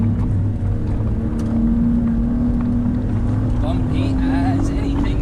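A BMW M3/M4 (G80/G82) on MSS lowered suspension drives the bumpy carousel, its engine holding a steady, loud drone under heavy wind buffeting.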